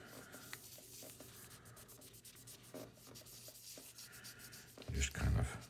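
Paper residue is rubbed off a Zippo lighter: soft, faint, scratchy strokes up close, ending in a slightly louder rubbing burst.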